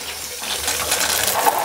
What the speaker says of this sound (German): Und da machen wir da mal 1 Liter Wasser rein.